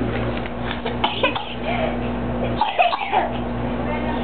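A couple of short coughs come from near the microphone, set against a steady low hum and faint background noise.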